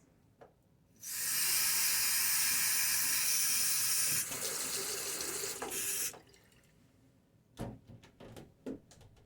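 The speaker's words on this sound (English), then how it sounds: "just gravity falling water to get the suds and the stubble out of your razor" Tap water runs in a steady rush to rinse suds and stubble from a razor, then falls away, leaving a few close clinks and splashes at the sink.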